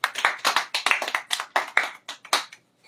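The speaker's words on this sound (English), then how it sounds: "Let us give Allan a big round of applause." Clapping from a small group, steady and brisk, lasting a few seconds before trailing off. There are no voices.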